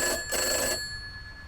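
A telephone bell rings in two loud bursts, each with a bright sustained tone, followed by a quieter fading hum.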